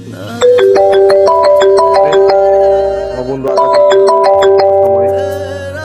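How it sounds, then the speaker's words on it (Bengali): A phone ringtone plays loud and close, a bright repeating melodic tune that runs through twice with a short break between, with no talk over it. "রিং হইতেছে।"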